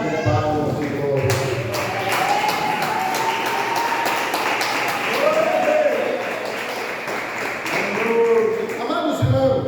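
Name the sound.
congregation clapping in worship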